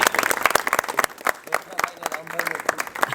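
An audience at a Gujarati community gathering claps in honour of a donor, a dense run of sharp, close handclaps in uneven bursts with brief lulls between them.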